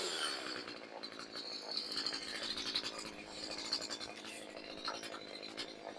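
A chainsaw runs steadily at moderate distance, its buzzing engine grinding on without break.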